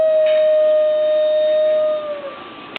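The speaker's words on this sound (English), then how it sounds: "I enter in evidence 1 as the New Guinea singing dog." A New Guinea singing dog gives a long, steady, pure-toned howl that holds one pitch loudly for about two seconds, then wavers and slides off near the end, with no talking.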